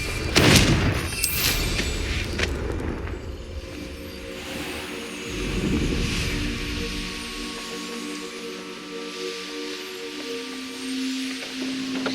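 In Hogwarts Legacy, a Confringo fire spell bursts with a sharp, loud explosion right at the start, followed by a rolling rumble and a lingering tonal game soundscape that slowly fades.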